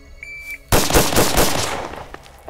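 A 5.7x28 firearm is fired on a test range: a short electronic beep, then a loud, close burst of rapid gunshots that echo and fade.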